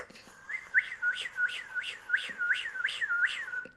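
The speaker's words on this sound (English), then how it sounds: "you can do that just by whistling in and out" A person whistles a series of short, evenly spaced rising notes, about eight in a row, close and fairly clear.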